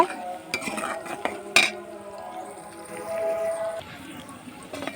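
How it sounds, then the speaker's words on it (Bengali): Onions sautéing in oil in a pan as a spoon stirs and scrapes, with soft sizzling, a sharp metallic clink early on and a faint distant tonal call in the background. "এদিকে আমি পেঁয়াজটা কষিয়ে নিচ্ছি"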